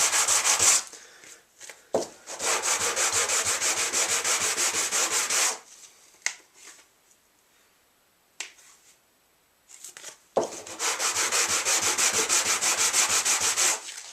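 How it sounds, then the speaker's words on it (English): Long stretches of steady, rasping sandpaper rubbing against wood, in two main passes with a quiet pause and a few knocks in between. "Okay, it's all sanded on the edges."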